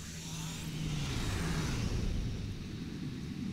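Starship slipstream drive engaging in Star Trek Online, a steady loud roaring rush with a deep low rumble and a falling whine early on, continuous for several seconds with no voices.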